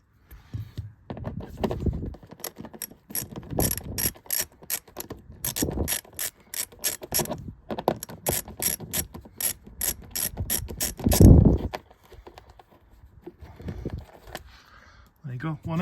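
Small screw on a Land Rover Discovery being worked loose mostly by hand, giving repeated light mechanical clicks and scrapes in bursts close to the microphone, with one louder clunk near the end.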